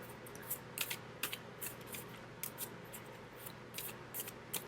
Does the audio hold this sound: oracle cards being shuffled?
yes